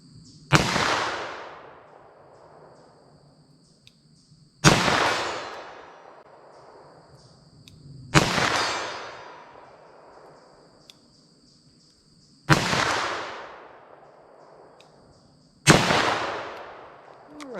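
Five loud .357 Magnum revolver shots fired at a 75-yard target, evenly spaced about four seconds apart, each a sharp crack with a long echoing decay outdoors.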